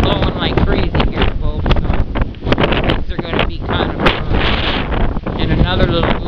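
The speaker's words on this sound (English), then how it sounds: "The wind's blowing like crazy." Strong wind blows through a yard and garden, buffeting the microphone in loud, continuous gusts with rumbling bursts, and a voice talks faintly underneath.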